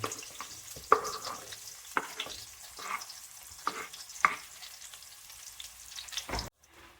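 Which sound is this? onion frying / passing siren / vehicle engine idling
onion frying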